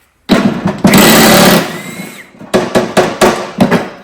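Hammer blows on the rusted steel deck of a John Deere L110 lawn tractor mower, a loud burst of clanging followed by about seven sharp, evenly spaced metallic strikes close up.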